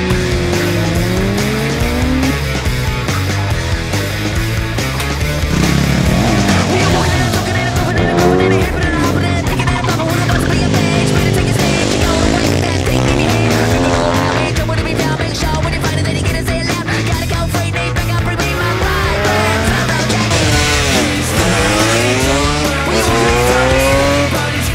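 Racing motorcycles on a Moto Tour special stage near Val-de-Reuil, France, are ridden at full throttle, their engines screaming loud and close through rising and falling revs as they pass, with overlapping passes and constant roar throughout.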